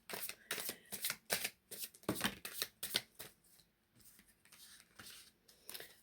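Wisdom oracle cards are shuffled by hand in a quiet room, a steady run of soft riffling and slapping bursts with brief pauses, close and fairly faint, no voices.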